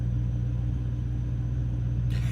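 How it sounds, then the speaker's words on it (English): A truck engine idles nearby outside a Walmart, a steady low rumble that stays constant throughout, with a short burst of broadband noise at the end. "It sounds like Chad's truck"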